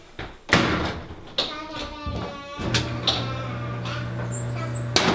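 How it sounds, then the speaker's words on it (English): A squeaky item that must be pushed around to get it going gives repeated squeaks and door-like thumps, with a long sustained creaking tone near the end and people talking over it. "You hear the squeak?"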